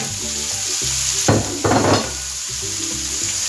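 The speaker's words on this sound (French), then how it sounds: "on va ajouter les aubergines qu'on a bien essorées" Drained, salted aubergines for ratatouille hit a hot frying pan with a loud, steady sizzle that swells in a couple of bursts as they are stirred. No one talks.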